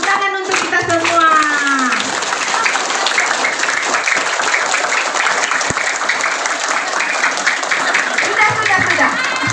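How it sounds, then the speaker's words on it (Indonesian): Children clap together at a Ramadan school pesantren event at a state elementary school in Baubau, a dense, steady burst of applause lasting the whole stretch, with a voice heard briefly at the start. "Tepuk tangan untuk kita semua."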